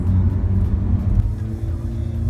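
Mazda RX-8 R3 rotary engine pulling steadily while driving, a continuous low rumble with a faint rising tone, heard from inside the cabin with steady road noise and no sharp revving.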